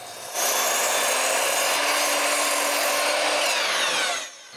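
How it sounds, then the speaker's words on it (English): A saw cuts through a wooden 2x8 floor board in one long steady stroke of dense rasping that starts abruptly and stops after about four seconds. "I cut the floors 2x8s"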